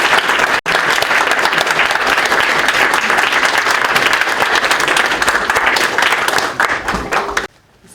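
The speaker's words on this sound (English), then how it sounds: "Round of applause." Wedding guests break into a loud, sustained round of applause, dense clapping filling the room almost without pause for several seconds before it thins out and stops abruptly near the end.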